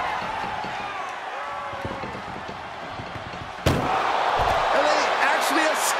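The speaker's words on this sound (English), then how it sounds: "At least slam one door shut." An ambulance door slams shut during a wrestling match, a single loud, sharp bang cutting in midway through crowd noise and an excited commentator's voice.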